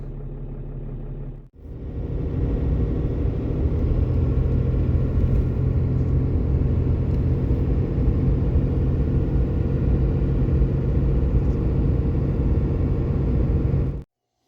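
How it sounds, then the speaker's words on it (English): Steady low engine rumble and road drone from a car cruising a dark highway at night, continuous and even after a brief quieter start, with no voices. "I get to drive about 25 miles through black highways"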